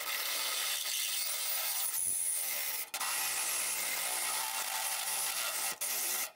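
A hole saw with a pilot bit drilling through metal for custom firewall roll bar brackets on a 1960-66 GMC/C10, a loud continuous grinding, rasping whine that briefly drops out twice, close and steady with no talking.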